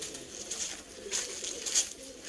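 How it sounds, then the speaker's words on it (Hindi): A racing pigeon in Sialkot pigeon flying, having just landed, gives a few soft coos over quiet outdoor background, fairly faint. "उतर चुका कबूतर।"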